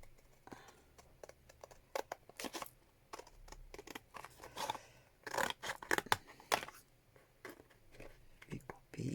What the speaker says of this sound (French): Je vais couper ma truc en deux.